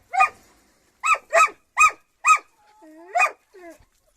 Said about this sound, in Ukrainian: І собака тут охрана гавкає.